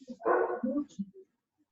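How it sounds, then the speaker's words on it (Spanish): An old female dog barks a few times nearby, short yelping barks in a quick burst that fades into silence. "tengo un perro acá que está ladrando, la perra más vieja"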